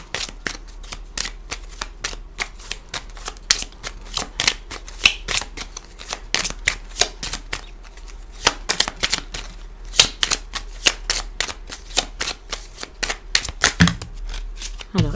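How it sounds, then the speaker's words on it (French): A deck of oracle cards is shuffled by hand, giving a long run of quick, crisp riffling and slapping bursts, close and steady, with brief soft speech now and then. "il y a trop de cartes qui sont tombées, donc je vais continuer de battre"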